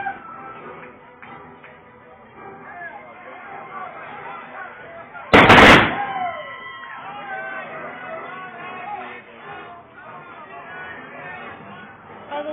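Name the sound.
gunshots at Tombstone show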